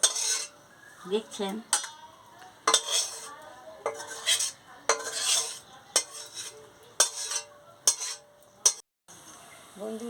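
Cooked greens with fish being scooped out of a pan into a dish, a series of sharp metal spoon clinks and scrapes against cookware in irregular bursts, with someone speaking briefly between them.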